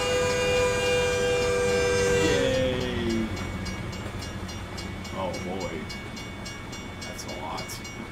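Train in American Truck Simulator passing nearby, opening with a loud sustained horn that cuts off, then a continuous rumble and clatter of rail cars rolling by, with some voices talking.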